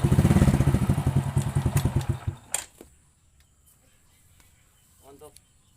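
Honda Grand motorcycle engine fitted with a Sogun Kebo CDI, a close loud pulsing putter for about two and a half seconds that then cuts off into near quiet with a brief faint noise.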